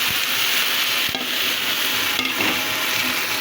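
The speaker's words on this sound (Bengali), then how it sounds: "এখন আমি ম্যারিনেট করে মাছটা দিয়ে দেবো, আস্তে আস্তে দিয়ে দেবো, মাছটা ভেঙে না যায়।" Marinated hilsa fish goes into a pan of fried onions, giving a loud, steady, close sizzle with faint clicks of the utensil.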